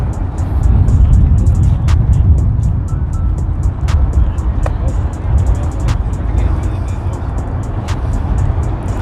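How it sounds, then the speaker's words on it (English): Shelby GT500 of the 2013–2014 model year rumbling steadily nearby amid a crowded car meet, with a continuous low engine drone, other vehicles and crowd noise around, and voices talking over it. "Got a nice Shelby GT500, the 13 to 14 year model."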